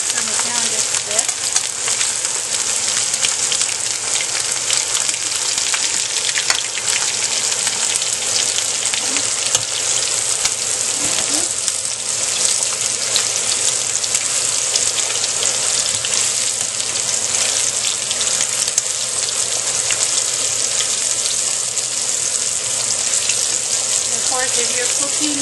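Chicken pieces fry in hot oil with a loud, steady, continuous hiss and crackle that holds unbroken from start to finish.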